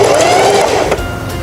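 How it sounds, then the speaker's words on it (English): A Singer 4423 sewing machine sewing a short bar tack, a loud, close, rapid mechanical whirr of stitching that eases off toward the end. "Lower the presser foot and sew a few stitches for the bottom bar tack."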